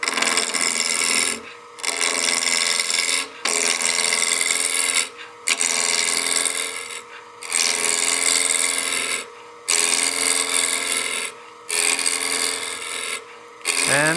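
A lathe tool cuts the sharp corners off a spinning wooden block, giving loud continuous rasping, scraping passes broken by brief regular pauses between cuts.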